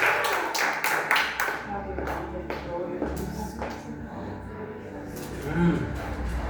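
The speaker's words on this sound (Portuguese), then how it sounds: "Aplauda o Senhor pelo dia de honra," Church congregation clapping and applauding, a quick dense patter of many hands under someone speaking, tapering off near the end.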